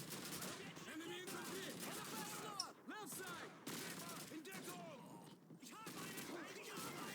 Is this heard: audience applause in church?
no